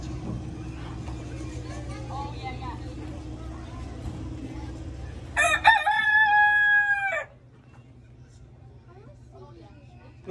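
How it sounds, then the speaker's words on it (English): Rooster crowing on a family farm in Lacombe, Alberta: one loud, drawn-out cock-a-doodle-doo nearby, heard over a steady low engine hum and outdoor noise. "No, there's chicken."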